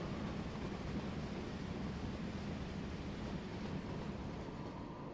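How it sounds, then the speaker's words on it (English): A mainline train with powerful engines runs in the Transport Fever 2 video game, a steady, fairly quiet rolling rumble with rail noise throughout and no speech. "I like to keep an eye on my mainline trains."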